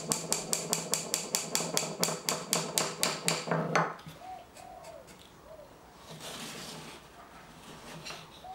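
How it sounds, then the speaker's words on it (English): Small hammer taps a nail into a pilot hole in kumiko woodwork, about fifteen quick, even, close taps, then quiet room sound with a pigeon cooing in the background. "Push a nail into the pilot hole and tap in until it's fully inserted."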